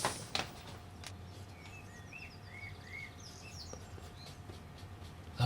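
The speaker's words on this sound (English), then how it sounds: "Lovely to hear the little birds just outside the window." Small birds sing just outside a window, with scattered high chirps and trills at moderate distance over a quiet room tone, a few clicks near the start.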